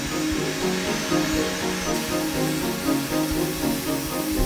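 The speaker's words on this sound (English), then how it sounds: "The drill bit follows a pre-programmed route, shaping the car with utmost precision." A 5-axis milling machine drives its drill bit along a programmed path, shaping a full-size Range Rover Velar car model; a steady, dense whirring grind with rhythmic pulsing runs continuously and fairly loud, with no talk.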